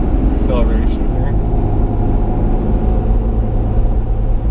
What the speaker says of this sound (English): So I'm in tow haul mode, which actually increases the transmission's response. So if I give it a little acceleration here